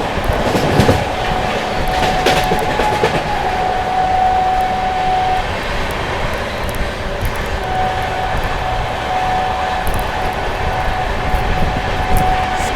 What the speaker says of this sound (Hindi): ट्रेन अपनी स्किप करने जा रही है अलीगढ़ जंक्शन